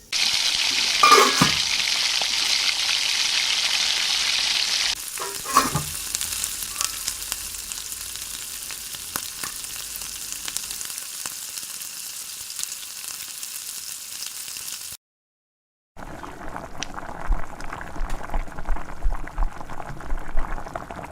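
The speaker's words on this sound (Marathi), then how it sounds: "आता झाकण ठेवून याला 2 ते 3 मिनिटं वाफ देऊया" Potatoes cook in a covered pan of a Maharashtrian vegetable dish, giving a continuous sizzle and bubbling. The sound is brighter at first, then softer and steadier, and after a brief silence it resumes with quiet crackles.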